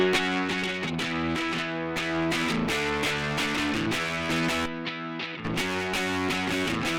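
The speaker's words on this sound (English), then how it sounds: "this one is a tape saturation plugin" Music processed through a tape saturation plugin, Bandbright by Sinus Labs, with warm, gritty harmonic coloring on a steady instrumental passage; the sound cuts out briefly near the end before resuming.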